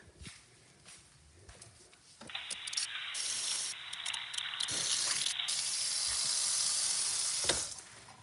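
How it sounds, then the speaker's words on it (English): Tap water runs steadily for several seconds as someone washes their hands in a home kitchen during fish cooking, starting softly and then gushing louder and closer. "I need to wash my hand."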